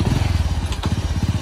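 An old motorcycle engine starts and runs with a rapid, rumbling chug of regular low thumps, close and loud, with a brief clatter midway.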